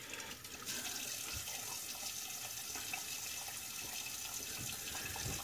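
A tap runs steadily into a sink while a boar shaving brush is rinsed, the water flow starting abruptly and continuing as an even, close hiss.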